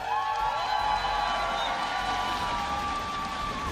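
An esports arena crowd cheers for the London Spitfire Overwatch team, a steady roar of cheering and whoops under a sustained musical tone, loud and continuous throughout.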